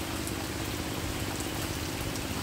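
Rain falls in a steady, dense hiss with faint scattered drops. The wash is continuous and even throughout, with no voices.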